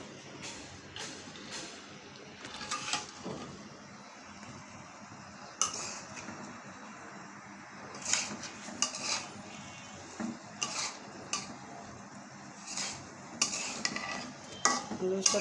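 Lightly fried okra tumbles into a pot of potatoes and is stirred in, bringing repeated scraping and clinking of a utensil against the pot over a soft background sizzle, with no voices.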